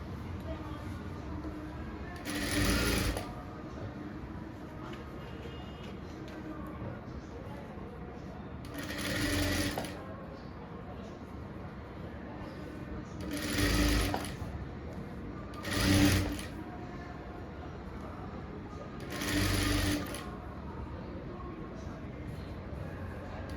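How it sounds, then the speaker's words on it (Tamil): A sewing machine stitches the back of a blouse in short bursts, five separate whirring runs with quiet pauses between, a faint voice sometimes heard in the room. "கழுத்து நல்லா நேராக வச்சு விட்டுட்டு தையல் போட்டு விடுங்க."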